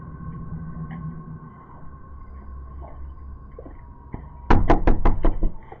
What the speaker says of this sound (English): you can see the stalker approach his victim's front door, knock, and then flee.